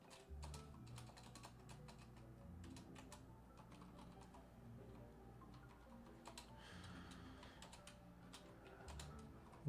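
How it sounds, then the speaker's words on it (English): Keys tap steadily on a computer keyboard in quick, uneven bursts with short pauses while code is entered, close and quiet, with no talking. "Well, I'm going to be done typing in a second"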